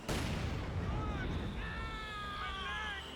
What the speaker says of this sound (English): Got some mortars running on, hitting the Panzerfusiliers now